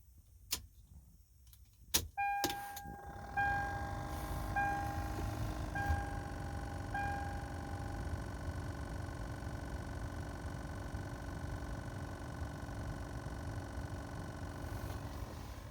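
Blower fan motor on a 2002 Lexus RX300 running behind the glove box, a steady low whirring hum after a few clicks and knocks of the key, with a faint repeating tone over it.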